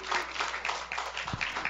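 Applause from the audience at a church women's Christmas party, a steady wash of many hands clapping at moderate distance for nearly two seconds, with no voices standing out.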